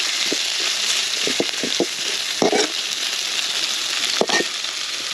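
Onions frying in hot oil for a village-style pangas fish curry, a steady bright sizzle throughout with soft scraping stirs breaking through at intervals, close and alone without talk.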